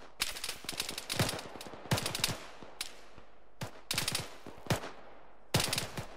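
Automatic rifle fire in Arma 3, loud close bursts of several rapid rounds, repeated with short pauses between them and faint distant shots in the gaps.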